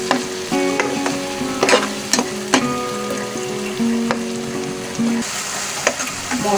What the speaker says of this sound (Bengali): ভালো করে মশলাটা এবার কষিয়ে নিব।